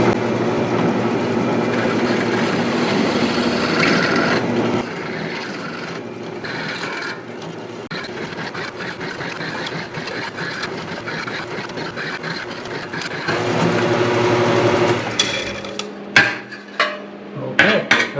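Drill boring a 27/64 hole through a 2x4 with a center drill, a steady mechanical whir with grinding texture that drops and restarts, ending in scattered clicks and knocks.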